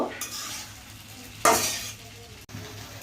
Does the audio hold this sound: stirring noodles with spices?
yes